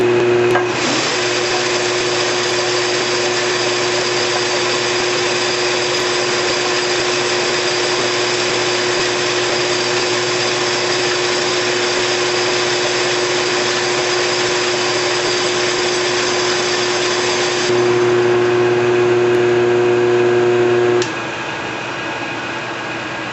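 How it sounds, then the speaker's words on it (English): A hydraulic cylinder is being cut to make a groove in a bandsaw shop project. A loud, steady machine whine with a strong tone runs continuously, changes pitch near the end, then drops off. "After we cut this groove out of this hydraulic cylinder"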